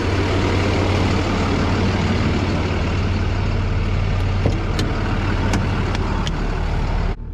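A heavy straight truck's engine drones steadily from the cab, with a low rumble throughout and a few sharp clicks and rattles near the end.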